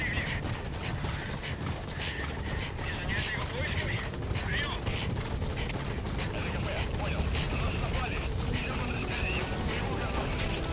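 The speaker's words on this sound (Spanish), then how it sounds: "Nos dirigimos al helicóptero" A helicopter in Metal Gear Solid 5 keeps up a steady rotor din throughout, mixed with game sounds and a voice talking over it.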